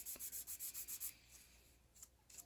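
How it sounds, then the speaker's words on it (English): A red sanding stick rubs a 1/25 scale model car part in about eight quick, even back-and-forth strokes, close and quiet, followed by a pause and two lighter strokes. "we'll see how it sands now. Got my red sanding stick."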